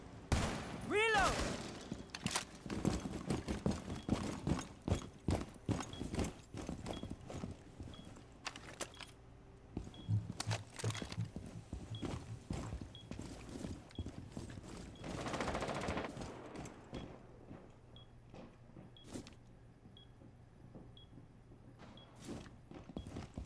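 Rapid bursts of gunfire from a tactical shooter video game crackle through the clip in dense clusters, with some quieter stretches between volleys and a low game ambience underneath.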